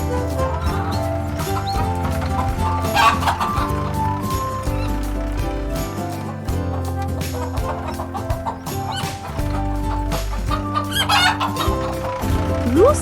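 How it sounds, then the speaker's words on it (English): Cartoon hen clucking in a children's animal-sounds song, set against a steady, busy musical backing that runs throughout. "Hen, cluck cluck."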